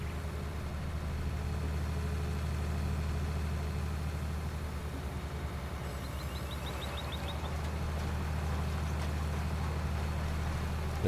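Steady droning tractor engine in the Farm Simulator video game, a constant low idle-like rumble running unbroken and fairly loud throughout, with a faint higher whine briefly joining midway.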